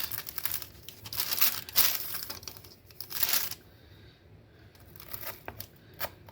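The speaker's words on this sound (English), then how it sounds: "Oh, you hear that crunch?" Crisp crinkling and crunching as a knife cuts through Mini Eggs rice crispy squares on parchment paper, coming in several close bursts with quiet gaps, no talk.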